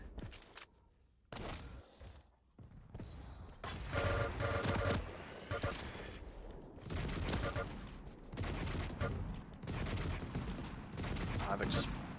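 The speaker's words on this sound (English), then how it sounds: "just taking slug after slug from that railgun" Repeated railgun shots in a Quake Pro League duel, sharp bursts recurring throughout amid other gunfire and game effects, with commentary talking over the action.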